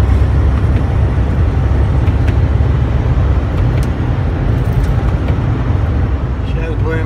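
A car driving along Oregon Highway 101 gives a steady, loud road and engine rumble with continuous tire noise throughout, with no voice heard.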